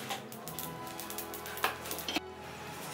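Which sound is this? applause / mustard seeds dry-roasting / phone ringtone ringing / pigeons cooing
mustard seeds dry-roasting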